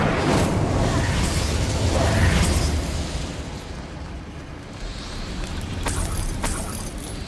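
The Incendio fire spell from the video game Hogwarts Legacy gives a loud, sustained roaring blast of flame that stays dense for a few seconds, then eases into a softer rumble with a couple of sharp cracks.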